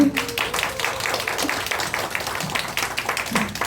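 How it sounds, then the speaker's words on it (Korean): A church congregation at a Sunday evening service applauds a guest soloist, with close, distinct claps forming a lively, continuous round over a few seconds. "다시 한번 박수."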